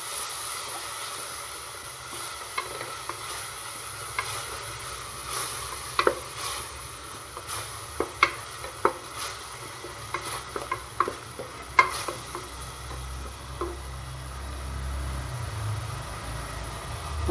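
Ginger garlic paste sizzles and hisses steadily in a hot pan for chicken curry, a continuous bright frying hiss with scattered small pops and a spoon stirring now and then, no voices.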